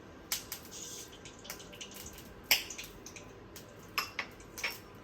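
Mustard seeds tempering in hot oil: irregular sharp pops and crackles, six or seven distinct bursts spread over a quiet low background, close and fairly crisp, with no talk.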